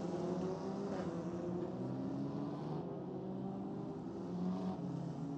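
Single-seater race cars run in a pack behind the safety car at Paul Ricard, a steady blend of engine drone heard from a distance and fairly faint, with gentle swells as cars go by.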